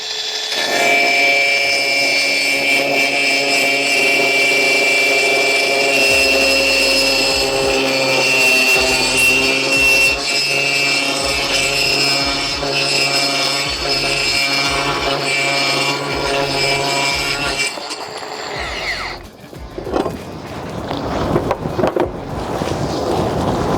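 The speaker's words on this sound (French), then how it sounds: "Je positionne mon trépan. Et ça, là je vais attaquer direct." A diamond core drill bit bores into material at an angle, a loud steady grinding whine with ringing tones that runs continuously for most of the clip before cutting off near the end.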